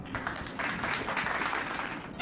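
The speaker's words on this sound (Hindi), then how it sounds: "तो मेरे लिए गाइस हो जाए अभी तालियां" A short burst of applause dropped into a gaming clip, moderately quiet and steady, lasting a couple of seconds.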